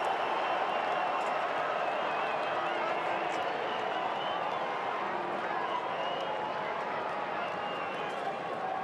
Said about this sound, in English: Plenty to cheer about for the travelling Blue supporters and those Carlton supporters that are based over here